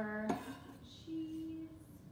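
A spoon clinks and scrapes in a cast iron pan as spinach is stirred into creamy orzo with butternut squash, one sharp knock followed by softer scraping and a faint tonal ring, close and fairly quiet.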